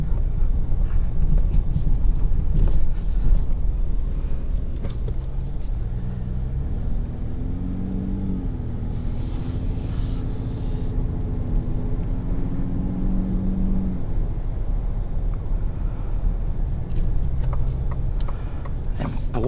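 A 2021 Ford F-150 Raptor drives over bumps, heard from inside as a steady low road rumble and engine drone with brief thuds and rattles, with no talking.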